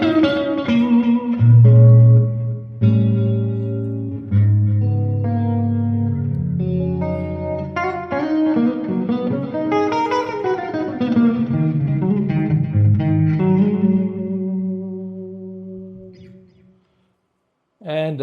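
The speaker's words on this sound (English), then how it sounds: "And now the mini humbucker with the neck pickup, and that sounds a little more like this." Strat-style electric guitar on a mini humbucker with the neck pickup, played through a clean tone: melodic single notes and chords ringing with reverb, steady and close, ending in a brief silence.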